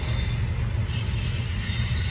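A Norfolk Southern freight train rolls past nearby, its steady low rumble and wheel noise continuous throughout with a faint high squeal at the start, no voices.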